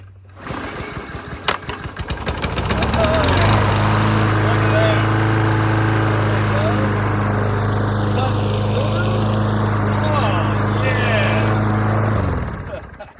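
A 10-year-old Troy-Bilt lawn mower, just repaired with carburetor, oil, blade and air filter work, cranks after a brief pull, then catches into a loud, steady close-up engine roar for about nine seconds before cutting off.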